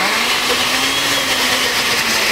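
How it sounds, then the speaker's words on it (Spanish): A kitchen blender whirs at a loud, steady, high-pitched whine as it purees chopped tomatoes (jitomate), running alone without a break. "Entonces enseguida lo que vamos a hacer es licuar el jitomate"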